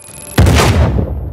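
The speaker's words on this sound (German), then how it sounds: "Ich hab außerdem schon wieder eine Granate geworfen." A single loud grenade explosion in Uncharted 4 bursts suddenly after a quiet moment and rumbles as it decays over about a second.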